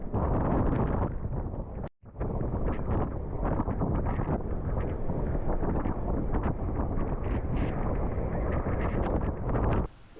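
Howling wind gusts up to 60 miles per hour during a nor'easter aboard a boat, a loud continuous roaring rush buffeting the microphone with one brief dropout.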